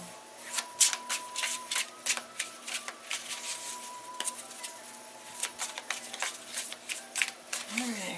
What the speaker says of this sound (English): We're going to shuffle one more time after this.